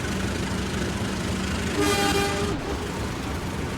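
An Indonesian railway train passes loudly and close by, a continuous rumbling roar of wheels and carriages with a brief tonal horn toot rising over it midway.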